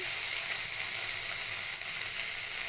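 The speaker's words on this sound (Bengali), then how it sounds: "আদা রসুন পেঁয়াজটা ভালো করে ভেজে নিয়েছি অল্প একটু জল দিয়ে" Ginger, garlic and onion fry in a pan with a little water, giving a steady, loud, continuous hiss and sizzle with no break.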